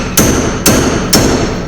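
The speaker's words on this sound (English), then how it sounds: "That means get a bigger hammer" Three sharp, evenly spaced hammer blows ring out up close on a Mopar big block engine in a 1968 Satellite, each a loud metallic strike with a brief clang and quick decay.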